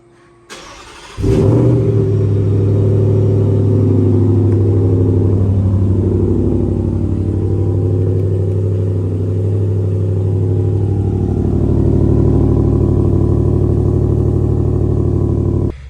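A 2024 Ford F-150 Raptor R V8 fires up by remote start, a sharp crank and catch followed by a loud, deep, steady idle rumble that holds close and strong throughout.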